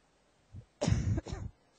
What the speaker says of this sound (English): so I apologise for a little tickly cough